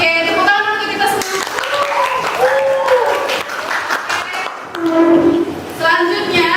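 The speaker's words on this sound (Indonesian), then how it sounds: "Oke, tepuk tangan untuk kita semua." Students applaud in a classroom, a burst of group clapping under and between a teacher's spoken voice, moderately loud and fairly close.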